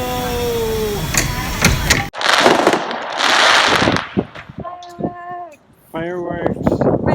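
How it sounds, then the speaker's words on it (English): Fireworks burst right overhead above a parked camper van in Portugal, a run of loud crackling pops and bangs with hissing trails, under excited voices talking and shouting nearby. "Fireworks. Right over our van."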